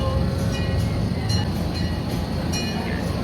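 Riding aboard a train, a steady, loud rumble of wheels on rails fills the carriage with faint rhythmic clicks on top and no talking.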